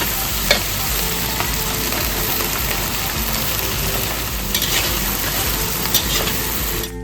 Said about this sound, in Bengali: পেঁয়াজ আর ক্যাপসিকাম খুব ভালো করে ভাজা হয়ে গেছে